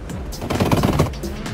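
Sharp popping bursts crackle from a tuned Honda Civic's engine misfiring in Assetto Corsa, a rapid cluster of loud, close bangs with a rough low rumble between them.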